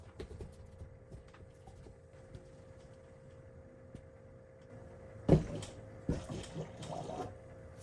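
Fluid inside a Radflo shock absorber being rebuilt gurgles and sloshes as the piston is pushed and pulled by hand, faint at first and then several louder wet bursts over a steady low hum.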